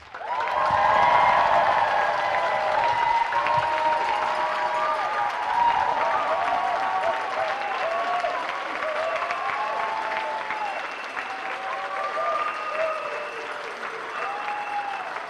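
An awards ceremony audience breaks into sustained loud applause mixed with whoops and cheering voices, rising early and then holding steady throughout.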